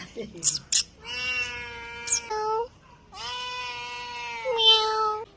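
A cat meows several times in long, drawn-out calls, close and fairly loud, with a few short higher squeaks between them.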